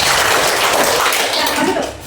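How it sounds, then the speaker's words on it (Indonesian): A classroom full of students clapping for a group heading to the front, a dense, steady wash of applause close by that tapers off at the end. "Tepuk tangan kelompok A."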